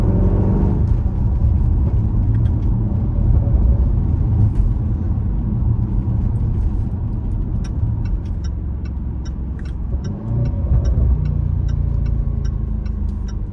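A very loud SUV engine pulls hard at full throttle, a thick sustained roar with steady rumble and a brief dip partway through, plus faint ticking clicks in the background.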